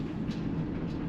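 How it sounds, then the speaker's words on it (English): A train passes near a cargo van on the road, a low steady rumble of rail cars with faint clickety-clack, moderately loud and continuous, with no talk. "Oh man, it's a train."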